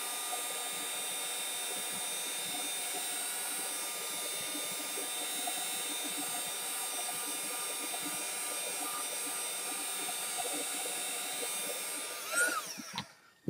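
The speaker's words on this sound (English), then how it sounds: "Use this gun again just to help dry it a little faster." A heat gun blows steadily on a painted flower artwork, making a constant whirring hiss that runs close and unbroken for over twelve seconds before clicking off.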